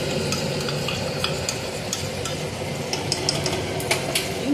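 Spiced yogurt mixture added to ginger and green chilli paste frying in oil for rasgulla malai kofta, giving a loud close sizzle with stirring and scraping clicks of a spoon against the pan.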